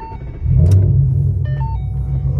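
A Ford car engine idles steadily after starting, a close low rumble with slight revving, no talk.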